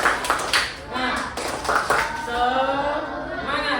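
A school class performs a rhythmic spirit clap, several sharp, evenly spaced bursts of clapping up close, followed by a teacher's voice talking.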